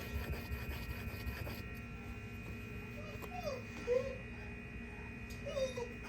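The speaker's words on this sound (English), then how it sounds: "I got a dog in the background here making noise" A dog whimpers now and then in the background, a few faint high whines surfacing over a steady hum while a pair of salon shears is sharpened nearby.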